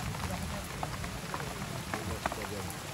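Light rain patters softly and steadily on a rural farm field, a faint continuous hiss with scattered drops.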